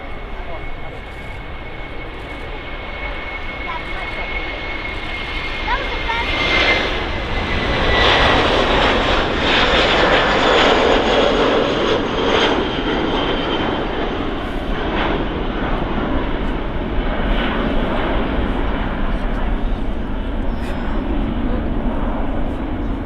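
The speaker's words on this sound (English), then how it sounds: "Turkish Airlines A330." A Turkish Airlines Airbus A330 jet passes near Manchester Airport with a broad roaring engine rumble that swells, peaks midway and holds steady, while faint voices talk in the background.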